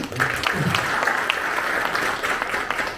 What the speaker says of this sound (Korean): 힘차게 박수로 환영해 주시죠